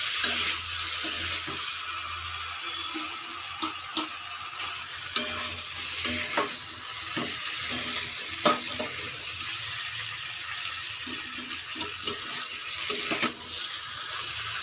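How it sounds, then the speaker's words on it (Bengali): Vegetables for Bengali shukto being sautéed in a pan, a continuous sizzling hiss with irregular clicks and scrapes from stirring, no voices. "ভালো করে একটু কষিয়ে নেব"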